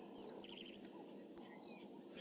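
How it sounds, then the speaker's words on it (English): A male red-backed shrike gives a few short, faint chirping calls over a steady background hiss of outdoor ambience. "This is the male redback shrike, summer visitor from further north."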